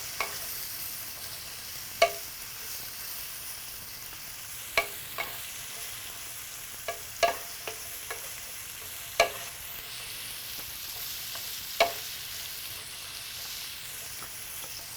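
Vegetables frying in a pan until crisp tender for turkey gyro: a steady, soft sizzle under occasional sharp clicks of a utensil against the pan, close and fairly quiet, no talk.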